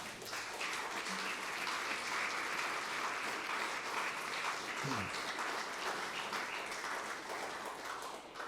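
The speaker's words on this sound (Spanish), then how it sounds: "Damos palmas al nombre de Jesús." Church congregation applauding together during a Spanish-language worship service, a dense sustained wash of clapping that fills the space evenly from start to finish, with brief murmurs of voices beneath it.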